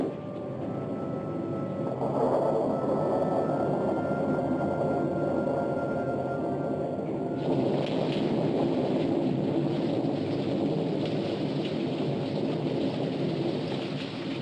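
Steady heavy rain with low rumbling thunder fills the scene throughout on a rural gravel road near a barn and cornfield, with the roar growing brighter and denser about halfway through; no voices.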